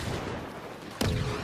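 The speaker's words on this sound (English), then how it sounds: "A lot of explosions happening." In a Star Wars Battlefront 2 battle, a low rumbling background breaks into a sudden sharp blast about a second in, followed by a heavy, decaying boom.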